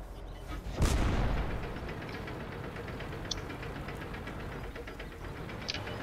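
A tank cannon fires once in World of Tanks near the Serene Coast battle, a loud booming blast that trails off over a second, followed by a steady rumbling engine drone with a few faint distant shots.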